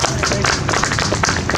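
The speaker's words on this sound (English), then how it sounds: "let's give him a round of applause" An audience at an Indigenous Peoples Day gathering in Fayetteville, Arkansas applauds Dr. Nick Bennett with brief, fairly loud, steady clapping from a crowd.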